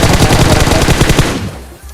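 Rapid automatic gunfire in a battle royale video game, a loud close burst of repeated shots for over a second before fading into quieter game ambience.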